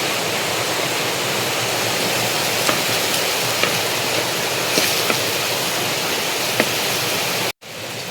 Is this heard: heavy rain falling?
yes